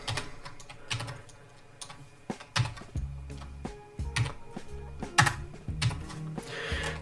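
Typing on a computer keyboard to enter a giveaway winner into a chat, a quiet run of close, uneven key clicks and taps with no talking.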